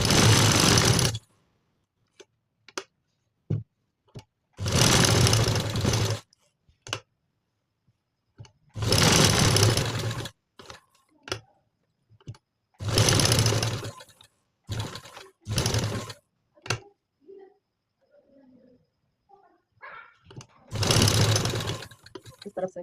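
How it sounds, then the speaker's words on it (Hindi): Sewing machine stitching over black embroidery on a patch neck design, loud bursts of rapid whirring lasting a second or two, separated by quiet pauses with small clicks and handling sounds. "इसी पर हम सिलाई डालेंगे"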